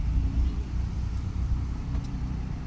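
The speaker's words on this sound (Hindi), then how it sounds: "न्यूट्रल कर दी ना गाड़ी, ब्रेक के सहारे आने दो पीछे गाड़ी।" A car rolling backward in neutral on its brakes during a driving lesson, a low steady engine idle and road rumble close by with a voice talking over it.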